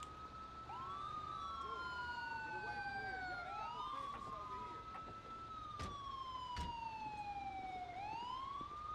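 A GTA 5 ambulance siren wails in long rising and falling sweeps through a police patrol scene, fairly close and prominent, with a couple of sharp knocks along the way.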